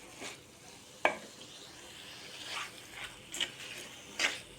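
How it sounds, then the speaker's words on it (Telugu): Chicken pieces are mixed with spices in a clay pot for gongura chicken, giving soft scraping stir sounds with a few distinct clinks and scrapes against a quiet background. "అంతా కలిపేసుకుందాం ముక్కలకు పట్టేటట్టు."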